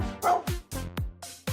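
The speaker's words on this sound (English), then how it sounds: "Look, it's a dog." Close, bright barking from a dog comes in a rapid string of about five or six yips, evenly spaced and clearly audible on their own.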